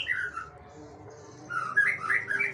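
Young magpie robin (murai) in care sings in short bright whistled phrases, one brief burst at the start and a fuller run of chirping notes in the second half, close and clear with no talking.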